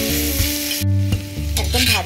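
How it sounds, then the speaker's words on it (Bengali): Pumpkin pieces frying in oil in a pan while being stirred, a close, steady sizzle with scraping stirs and a low hum in the background, no talking. "কুমড়োটা ভাজা ভাজা মতো হয়ে যাচ্ছে।"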